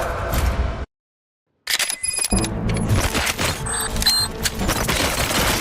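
Gunfire in the RoboCop: Rogue City video game comes as a loud burst of sharp shots and clatter, then a brief dead-silent gap, then a dense barrage of cracks and impacts that carries on to the end.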